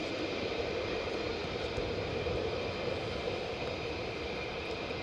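A military jet at RAF Lakenheath, where F-15s, F-16s and F-35s fly, produces a steady, broad engine roar with a constant hiss on top, loud and unbroken over the short span.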